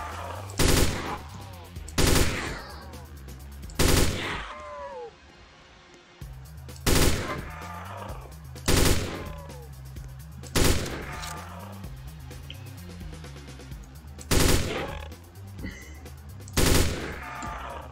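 Gunfire in a Roblox zombie game: sharp, loud bursts of rapid shots come in irregular clusters every couple of seconds, with fainter game sounds and chirpy effects between them.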